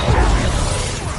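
Confringo spell cast in Hogwarts Legacy, a loud close burst with a low thump and broad rushing whoosh that fades over about a second.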